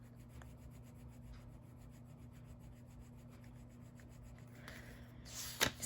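A Crayola colored pencil rubs across paper in a soft, steady scratching at close range, strokes running continuously over a low hum, with a brief louder scrape near the end.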